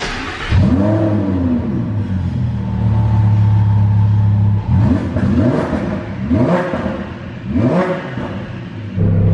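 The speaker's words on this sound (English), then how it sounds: "I have never heard a Lamborghini Huracan that's twin turbo start up before" A twin-turbo Lamborghini Huracan engine starts with a loud bark and settles into a heavy idle, followed by three sharp revs, close and unaccompanied.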